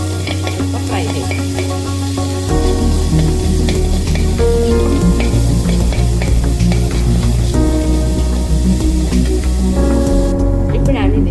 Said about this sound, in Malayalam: ഈ ഇഞ്ചി, വെളുത്തുള്ളി ക്രഷ് ചെയ്ത് വെച്ചത് ഇതിലേക്ക് ആഡ് ചെയ്യും. ജസ്റ്റ് ഒന്ന് ഇപ്പോൾ ഫ്രൈ ചെയ്ത്